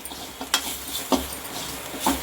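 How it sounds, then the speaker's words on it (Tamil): Two coconuts' worth of grated coconut sautéed in a kadai while making somas filling, heard as soft, sparse scrapes and light clicks of a spatula against the pan, quiet and close with faint background hum. "நம்ம 2 மூடி தேங்காவை துருவி வச்சுருக்கோம், அதையும் வதக்கி எடுத்துக்கணும்"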